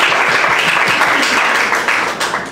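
Steady, dense applause from an audience after an artist talk, continuous throughout and slightly fading toward the end, with no other sounds standing out.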